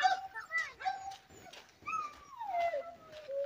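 A dog whines and yips in high, wavering cries, with short breaks between them, fairly close and moderately loud.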